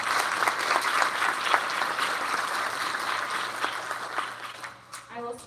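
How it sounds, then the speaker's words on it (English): An elementary school awards audience gives a round of applause for a first-year group, a thick, continuous clapping that thins out near the end as a voice begins to speak. "So let's go ahead and give them a round of applause for that."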